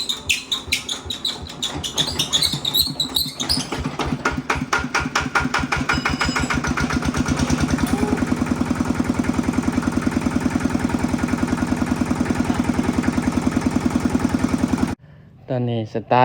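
A hard-starting motor is cranked with a clattering rhythm, then catches and settles into a steady, loud idle for several seconds before cutting off abruptly. Speech is mixed in throughout.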